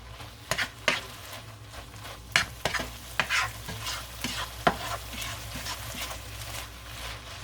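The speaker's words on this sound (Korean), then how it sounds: "이렇게 볶아주셔야 됩니다" Perilla leaf shoots tossed with a spatula in a hot pan, with scattered scraping and clacking strokes over a low, steady sizzle, close and fairly quiet, no voices.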